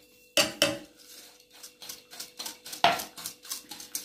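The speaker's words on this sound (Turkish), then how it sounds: "Ve karıştırıyorum." A spoon scrapes and clinks against a pot while stirring a biscuit pudding mixture with 300 grams of sugar, two sharp knocks at the start, then a quick run of rhythmic scraping strokes.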